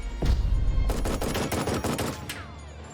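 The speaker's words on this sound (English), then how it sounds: "that machine gun cover fire is pretty fantastic" Machine gun cover fire in Jagged Alliance 3: a loud burst of rapid automatic shots after an initial bang, the rounds fired in a quick rhythmic stream before a last shot and fading echo, with no talking.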